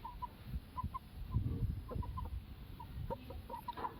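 Chickens and a rooster on a poultry farm, clucking in short, scattered, repeated notes at fairly low volume against a faint background.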